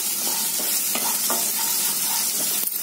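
Garlic and onions sauté with a pinch of salt for an oil brinjal kuzhambu, a bright continuous sizzle broken by several stirring scrapes.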